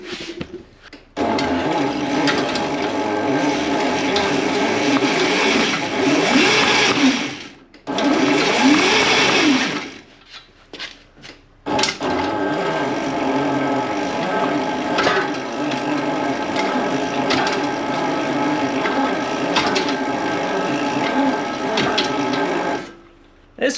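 Razor Dirt Quad 500 fitted with snow tracks and a 72V Kunray 5000W motor kit, giving a loud sustained electric whine with track clatter, easing off in two short pauses before surging again.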